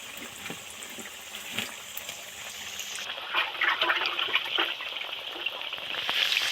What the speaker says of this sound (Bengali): নাড়াচাড়া করছি তাই মুজমুজ মুজমুজ করে আওয়াজ হচ্ছে